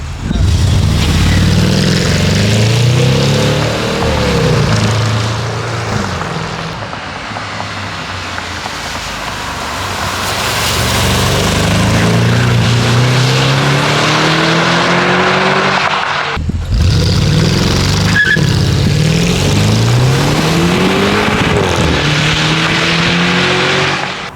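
A Porsche 958 Cayenne Turbo with its secondary catalytic converters deleted drives by through a corner, its loud exhaust rising and falling across several passes as the revs sweep up and down.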